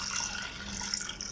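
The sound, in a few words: water poured into pot of lentils for carrot kootu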